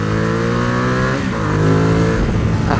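A 2019 Ducati XDiavel strapped to a dyno roars loud and close, its engine note climbing steadily through the revs with a brief dip and surge, no voices over it.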